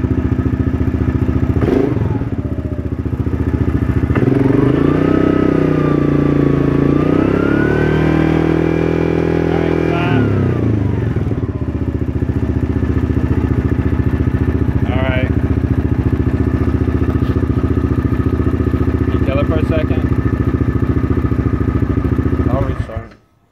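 An ATV engine with a charging fault revs up under the throttle, then settles into a steady loud idle, with someone talking over it near the end before it cuts off.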